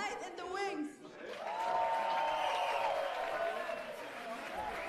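Audience at a live concert in Amsterdam applauds and cheers for the band Zeid and the Wings, a dense roar of clapping with whoops and voices rising and holding loud over several seconds.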